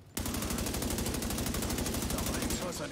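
Rapid automatic gunfire from The Division 2 rattles continuously in a fast, even rhythm, loud and close, with a voice briefly audible underneath.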